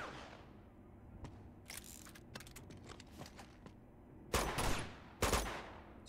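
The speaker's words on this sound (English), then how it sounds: "So let's try and shoot him with a revolver from here." Revolver shots ring out in the video game Uncharted 2: Among Thieves, two loud sharp blasts near the end following a stretch of quieter clicks and game ambience.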